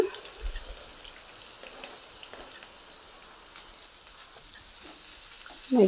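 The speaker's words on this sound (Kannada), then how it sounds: "ಅದೇ ಪ್ಯಾನಿಗೆ ಇನ್ನೂ ಸ್ವಲ್ಪ ಎಣ್ಣೆ ಹಾಕ್ಕೊಂಡು ಕಟ್ ಮಾಡಿದ ಈರುಳ್ಳಿಯನ್ನು ಹಾಕ್ತಾ ಇದ್ದೇನೆ" Chopped onions fry in extra oil in a pan for an Indian-style chicken sausage masala, giving a steady, soft sizzle and crackle with occasional small pops throughout.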